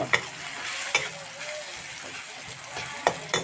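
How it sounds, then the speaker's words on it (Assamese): Tomatoes fry in a pan for an egg and tomato dish, giving a soft, steady sizzle. Sharp scraping clicks come at intervals as they are stirred. "উদঙাই লৈ এতিয়া ধুনীয়াকৈ লৰাই দিছোঁ।"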